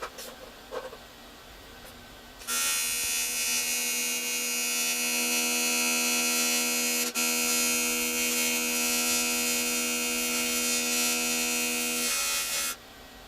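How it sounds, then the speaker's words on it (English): AC welding of aluminum step pieces gives a steady, loud electric buzzing hum that starts after a couple of seconds of quiet, holds for about ten seconds with one brief break, then cuts off. "clamp it, and start welding. Let the AC do its job."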